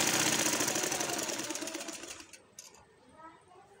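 A sewing machine runs steadily, stitching gum lace onto a kameez as the fabric is folded along the way, then slows and stops partway through; someone talks over it.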